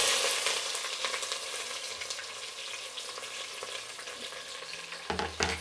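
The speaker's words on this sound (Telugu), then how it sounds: "ఇప్పుడు ఎర్రగడ్డలు, పచ్చిమిర్చి వేసేస్తున్నాను." Onions and green chillies fry in oil and ghee with spices for a pressure-cooker red biryani, a loud close crackling sizzle that gradually settles, then sharp stirring knocks near the end, and no voices.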